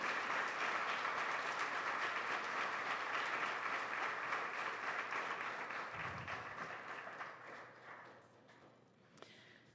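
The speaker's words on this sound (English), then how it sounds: "let's give these amazing students a round of applause" Audience applause at an adult degree program honors and graduation ceremony, a dense steady clapping from a large crowd that gradually thins and fades toward the end.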